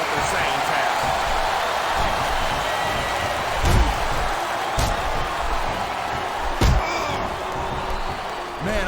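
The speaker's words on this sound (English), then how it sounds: "I love hearing the crowd come alive" Wrestling arena crowd in Smackdown vs Raw 2007, a constant roar of cheers and whoops with a few sharp slams, under commentators talking throughout.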